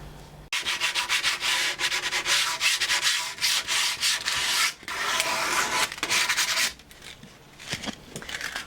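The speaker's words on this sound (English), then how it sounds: "I'm just sanding off this piece of worktop that Henry's cut." Steady rasping of sandpaper rubbed back and forth over a cut wooden worktop in a boat galley, loud and close, pausing briefly before resuming and trailing off.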